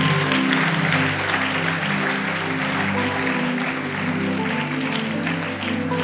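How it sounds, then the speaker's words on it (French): An audience at a church camp cheers and applauds, loud and steady, with continuous clapping under a bed of music for the whole stretch. "Quelqu'un acclame le Seigneur parce qu'il le croit."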